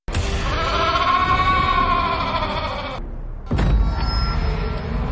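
Goat bleating loudly and close, one long wavering cry that breaks off, then a second harsh bleat begins after a short pause.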